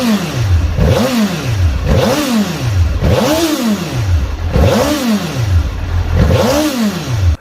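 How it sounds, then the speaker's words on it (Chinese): Suzuki GSX-R750 sport motorcycle engine revving up and dropping back in five repeated sharp blips, loud and close, with no speech over it. "我们听一下发动机声浪。"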